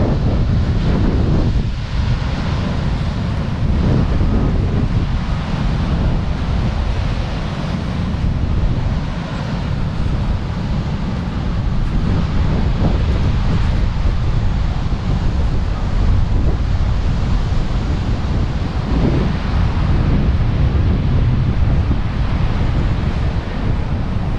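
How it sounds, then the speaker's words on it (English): Strong gusting wind buffets the microphone over the roar of rough ocean surf after a storm on a Florida beach, loud and continuous throughout. "the water's real rough. There was a storm last night that blew through here. High winds, still kind of windy."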